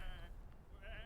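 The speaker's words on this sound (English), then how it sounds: "Come on, these are just sheep." Sheep in a video game bleat twice, a short wavering cry at the start and another near the end, heard faintly over a low game background.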